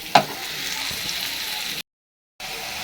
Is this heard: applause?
no